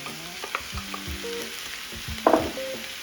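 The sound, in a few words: potatoes and vegetables frying in a pan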